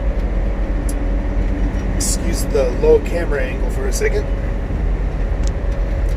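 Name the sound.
truck driving on the road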